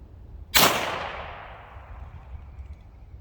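A single sharp gunshot from a .22 Ramset powder load cracks out at an outdoor range, then a long fading echo rolls away across an open space, with faint background noise before and after.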